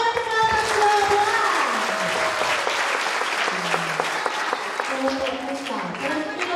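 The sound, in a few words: audience applause for group at camp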